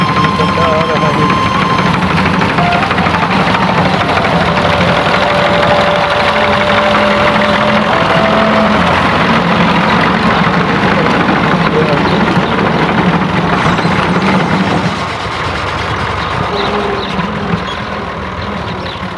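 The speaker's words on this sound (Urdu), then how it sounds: "یہ ہمارے سامنے ٹریکٹر آ رہا ہے" A tractor engine runs in a mustard field during harvest, loud and steady with a rough, knocking idle throughout, dropping slightly in level near the end.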